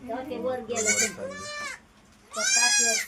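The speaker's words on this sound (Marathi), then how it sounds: "अशा काही शेळ्यामध्ये राहतात" Loud, close goats, two does and a buck, bleating in a few drawn-out, wavering cries, with short pauses between calls.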